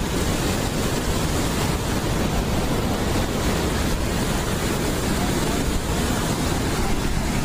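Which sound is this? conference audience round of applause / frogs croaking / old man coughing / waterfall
waterfall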